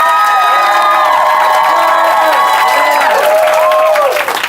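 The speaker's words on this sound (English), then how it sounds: "Can everybody applaud? Give a big round of applause. Bigger, more." Audience cheering and whooping at a loud, sustained level, with shouted voices rising and falling over a dense crowd bed and scattered clapping mixed in throughout.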